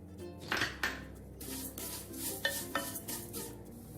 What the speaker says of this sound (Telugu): ఇప్పుడు ఇదే నెయ్యిలో ఈ సేమియాని కూడా వేయించుకోవాలి.